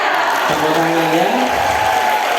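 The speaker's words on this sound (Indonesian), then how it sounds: "Tepuk tangan ya" Dense, continuous applause from a seminar crowd, loud and sustained, with voices calling out over the clapping.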